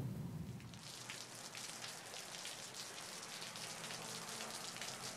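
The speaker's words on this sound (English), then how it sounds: "On this rainy afternoon" Steady rain falling on an afternoon, a continuous hiss with dense pattering drops, close and even throughout with no voices.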